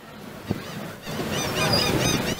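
A seagull calls at a seaside amusement pier, a series of honking cries rising over steady wind and ride noise, fairly close, with no talk.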